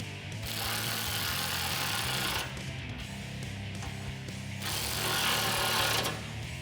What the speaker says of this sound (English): You can grab a 13mm socket and tighten these down.